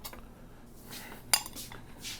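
Dishes and cutlery clink and knock while rabbit dumplings are served into a bowl in a home kitchen, with one sharp clink standing out among soft scrapes and handling noises.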